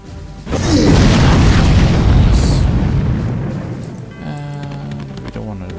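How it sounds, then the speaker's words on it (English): Fire bolt spell striking in the fantasy strategy game Age of Wonders: Shadow Magic, a loud booming blast that swells and rumbles for a few seconds before tapering off, then fading into quieter game sounds. "Fire bolts."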